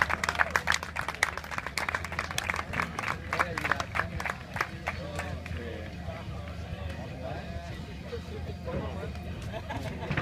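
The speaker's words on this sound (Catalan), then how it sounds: "Un aplaudiment." An audience claps and cheers at an enduro mountain-bike race awards ceremony, with steady applause and crowd hubbub over the length of the clip, an announcer's voice talking over it.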